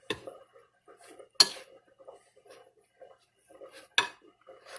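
A spoon mixes flour dough in a bowl in a quiet home kitchen, making sparse soft scrapes and taps with three sharp, close clinks against the bowl.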